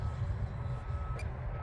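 A truck's reversing alarm beeps faintly over a low, steady rumble of wind and engine outdoors.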